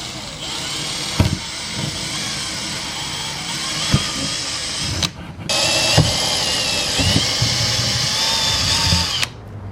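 A power drill bores a bolt hole through a BMW F82 M4 car trunk lid while fitting a wing: a loud, steady, high whine that runs for seconds, drops out briefly, then starts again with occasional thumps and catches.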